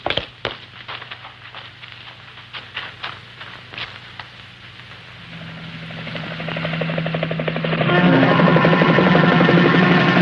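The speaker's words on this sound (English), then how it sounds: "The helicopters are ready. They'll be here soon." Helicopters arriving over an industrial area near Haneda, rotor thumping rising from a distant chop to a loud, dense roar that builds steadily and fills the final seconds.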